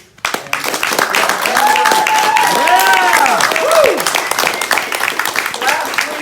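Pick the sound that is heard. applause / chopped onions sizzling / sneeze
applause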